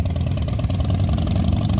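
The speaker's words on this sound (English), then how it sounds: "they sure do have loud motorcycles" Loud motorcycle engines from a motorcycle club rumble nearby, a dense continuous idle and throb with no talk over it.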